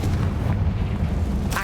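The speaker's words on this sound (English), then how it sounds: "Oh, I probably have to burn this first. Confringo." The Confringo fire spell from Hogwarts Legacy roars as a continuous low, booming burn, with a sharper bursting flare near the end and no talking.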